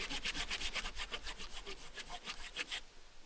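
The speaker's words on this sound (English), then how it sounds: "The sawing keeps me warm," A hand saw rasps through cold windfall wood in a steady back-and-forth rhythm of about a dozen close strokes, stopping just before the end.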